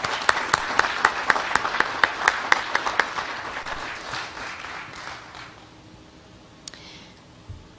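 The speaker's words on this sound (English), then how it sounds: "Let's give her a round of applause." An audience applauds at an outdoor Lewis and Clark Bicentennial celebration in Fort Benton, Montana, with a few distinct sharp claps over a crowd patter that fades out over several seconds, followed by near silence.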